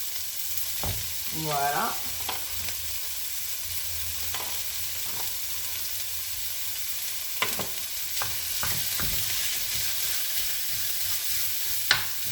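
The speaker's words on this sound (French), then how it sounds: "J'y rajoute ma viande hachée." Lean minced beef with 5% fat sizzles in a pan, a steady soft frying hiss broken by a few sharp scraping stirs and clacks of a utensil; one brief word is spoken.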